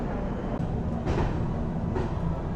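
Coromandel Express pulling out of MGR Chennai Central in heavy rain: a close, continuous low rumble of rolling carriages with a couple of faint rattling swells, no voices.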